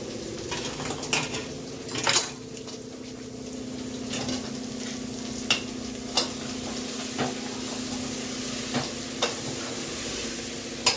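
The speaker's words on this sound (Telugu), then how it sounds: "ఇట్లా కొంచెం బాగా కలుపుకోవాలి ఇట్లా మంచిగా" Bitter gourd pieces being stirred in oil in a pan for pulusu, with a soft continuous sizzle under sharp intermittent clinks and scrapes of a metal spoon against the pan.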